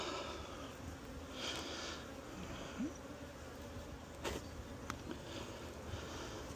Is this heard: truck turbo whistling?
no